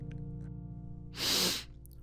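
A single loud, sharp sniff, a quick noisy burst of breath up close, against a steady low hum.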